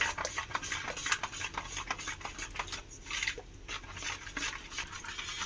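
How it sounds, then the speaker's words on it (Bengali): Semolina batter with chopped coriander and salt being stirred in a bowl, a quiet uneven scraping and soft wet slapping with light clinks of the utensil against the bowl. "সমস্ত উপকরণগুলোকে খুব ভালো করে মিশিয়ে নিলাম"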